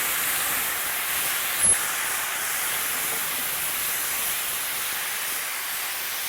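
Beef sirloin searing in a hot pan, a steady broad sizzling hiss that holds evenly throughout, with one faint brief clink partway through.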